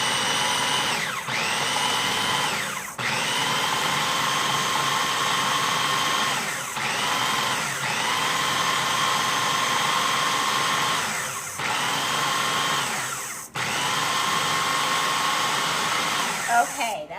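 A food processor pulses a Calabrese fried eggplant ball mixture with garlic, a loud, close, steady motor whine that briefly dips and restarts about five times over seventeen seconds, with no talking.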